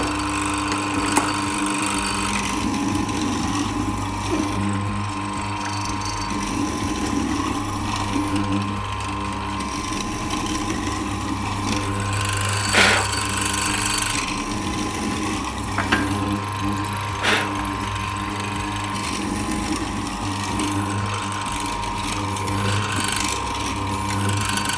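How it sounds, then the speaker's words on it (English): SIP bench morticer cutting a mortise in wood on its sliding trunnion table, a continuous mechanical whir and grind with repeated chiselling passes and occasional sharper knocks, loud and close throughout. "we can bring this down and actually cut our mortise in a succession of passes by just moving the trunnion table back and forth"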